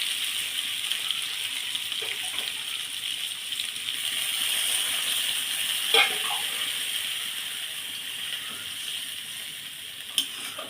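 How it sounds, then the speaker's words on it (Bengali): Water poured into vegetables frying for labra, a Bengali mixed-vegetable dish, producing a steady loud sizzle and hiss throughout, with a few faint clinks of utensils, close up and without talk. "এবার আমি জলটা দিয়ে দেব।"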